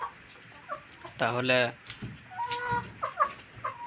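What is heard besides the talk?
chickens clucking on a farm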